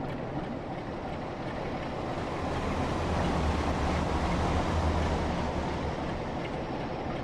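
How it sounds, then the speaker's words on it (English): A Pacer diesel multiple unit passes on the Blackpool branch lines in the Train Sim World video game, a steady dense rumble that swells to a peak around the middle and slowly fades, with no talking. "We'll go outside and watch the Pacer Man come past."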